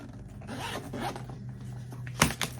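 A zipper on a messenger sling bag pulled open, a few scratchy rasping strokes ending in a quick, sharp, close zip.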